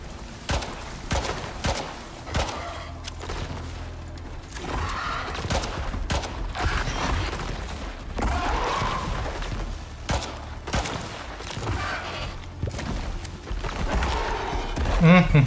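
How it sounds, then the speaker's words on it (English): Turrets fire in the video game Icarus, a busy run of thumping shots and bursts repeating through the clip alongside other game noise, fairly loud and close. "Those are shooting."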